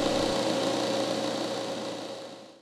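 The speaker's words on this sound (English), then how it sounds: "we can then turn on the recovery machine" An A/C refrigerant recovery machine runs while pulling refrigerant from a 2003 Toyota Camry, giving a steady, fairly loud mechanical hum that fades out at the end.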